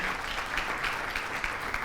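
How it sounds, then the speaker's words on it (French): Brisk, continuous audience applause at an a cappella singing contest, close and fairly loud with a dense patter of hand claps throughout the short burst. "Merci d'applaudir pour Henri Joël pour leur accompagner"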